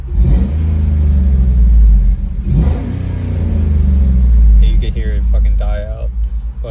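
A tuned third-generation Ram pickup with a 5.7 Hemi V8 revs up loudly and holds against its soft rev limiter, a deep sustained rumble that wavers, with a voice speaking briefly near the end.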